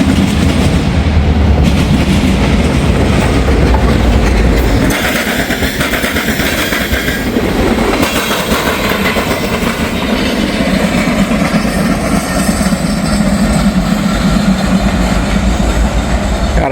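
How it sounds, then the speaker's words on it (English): A local freight train with a caboose rolls straight through a crossing, close and loud, its deep engine rumble and rhythmic clickety-clack of wheels on rail joints running continuously. "we got the local with the caboose, and he's coming straight on through"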